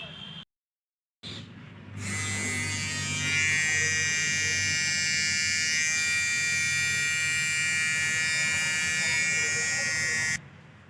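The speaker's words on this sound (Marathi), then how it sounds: "चला आता दाढी करून घेतो थोडी." A new electric trimmer shaving a beard, a loud steady close buzz that starts after a short silence near the start and runs without break for about eight seconds before cutting off.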